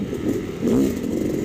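Dirt bike engine at a hare scramble race, a rough motor note under clattering with one brief rising rev in the middle, fairly close.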